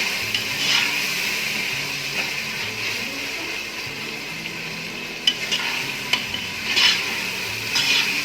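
Tomatoes stir-fried over full heat in a pot for Sindhi biryani: a steady bright sizzle runs throughout, with occasional scraping and clinks of a spoon against the pot.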